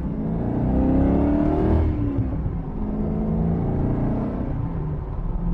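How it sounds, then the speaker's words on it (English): A 1987 TVR 390SE driven on a wet, slippery road, its engine revving loudly and continuously up close as the pitch rises and falls, with little pops between gear changes. "the little pops and bangs between the gear changers, they're good fun"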